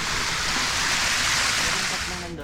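Ammococan Falls rushing after a storm, a steady, dense roar of falling water that stays loud and unbroken throughout.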